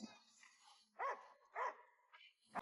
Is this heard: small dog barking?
yes